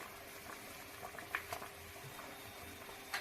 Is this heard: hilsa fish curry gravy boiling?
yes